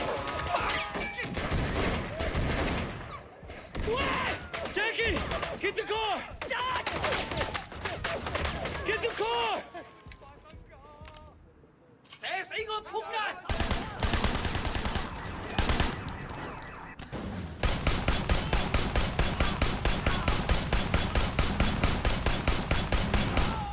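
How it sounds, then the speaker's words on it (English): Bursts of gunfire and machine-gun fusillades fill a fight in the open-world game Sleeping Dogs, with a short quieter lull midway before rapid sustained fire resumes, and voices talking over it. "They're just shooting everyone"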